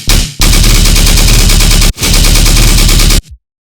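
Tearout machine gun bass patch built in Serum blasts in loud, rapid-fire stuttering bursts like automatic gunfire, two dense sustained runs separated by a short gap, then an abrupt stop.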